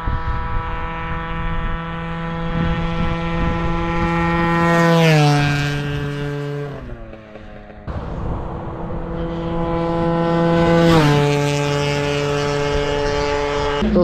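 A Yamaha DT 125 two-stroke motorcycle engine screams at full throttle, high-pitched, pitch climbing then dropping twice as it shifts and surges, loud and close.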